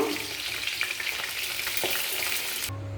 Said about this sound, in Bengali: চিকেন পকোড়াগুলো লাল করে ভেজে নিয়েছি